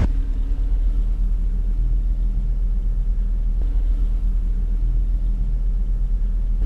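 A surveillance van rolls along the road with a steady, close low engine rumble and road noise that holds evenly throughout, with no talking.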